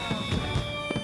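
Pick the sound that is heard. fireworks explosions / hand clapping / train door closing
fireworks explosions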